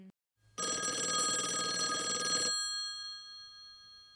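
A retro telephone bell rings in one continuous, loud metallic burst lasting about two seconds, then cuts off and leaves a short ringing decay.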